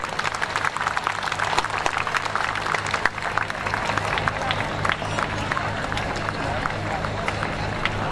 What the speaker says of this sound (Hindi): ताली बजाकर कृपया इनका हौसला अफजाय करें।